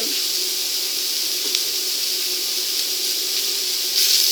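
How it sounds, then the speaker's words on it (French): Steady, bright hiss of lardons sizzling in a hot pan, continuous and close, with a slight surge near the end; no voices. "On va cuire les lardons"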